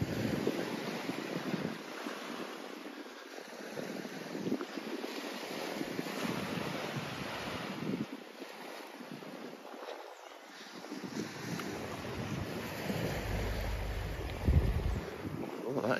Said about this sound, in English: Relaxing that, you know, the sound of waves, isn't it?